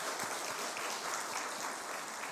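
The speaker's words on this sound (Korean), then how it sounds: "다시 한번 박수하겠습니다." A church congregation applauds at an evening program briefing, a dense, steady wash of many hands clapping throughout, moderately distant and sustained without pause.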